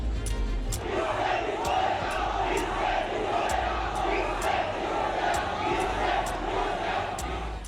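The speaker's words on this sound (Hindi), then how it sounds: "गोटबाया के खिलाफ हुंकार भरती भीड़" A large crowd of protesters roars and chants against President Gotabaya inside Sri Lanka's presidential palace, a dense, sustained wall of shouting voices with sharp rhythmic accents, loud and close throughout.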